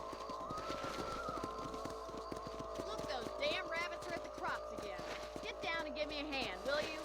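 Horse hooves clip-clop in a rapid, even rhythm in the Western video game Red Dead Redemption, running under game music and spoken character dialogue.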